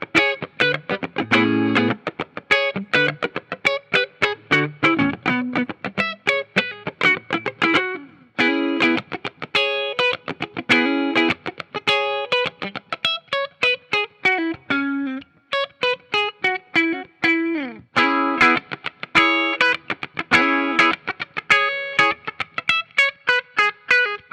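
A 1980 Gibson Firebrand 335-S solid-body electric guitar on its neck pickup plays a run of plucked notes and chords with a warm, slightly driven tone, steady and close, no voices.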